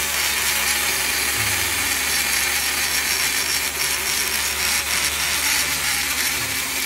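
A power tool grinds away steadily while porting the intake and exhaust of an engine cylinder head, a constant high whirring drone with no pauses, close and loud, and no talking.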